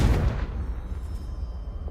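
Confringo blasting spell cast in the video game Hogwarts Legacy, a loud booming blast at the start that fades into a low rumbling tail.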